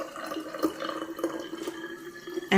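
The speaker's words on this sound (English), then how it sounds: "We're putting in 100 mils of certified organic witch hazel." Organic witch hazel poured into a 250 ml bottle, a soft, steady trickle of liquid with light splashing, quiet and close, ending with a brief louder bump.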